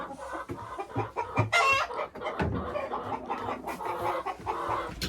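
Hens cluck inside a henhouse, a dense, close chorus of overlapping clucks and squawks with occasional louder calls, busy and continuous throughout.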